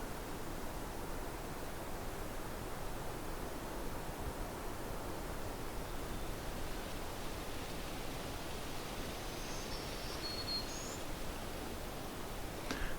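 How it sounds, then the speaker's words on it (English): Lake waves and light wind produce a steady, even wash of broadband noise throughout, with a faint bird note drifting in near the end. "You can hear the sound of the lake in the background,"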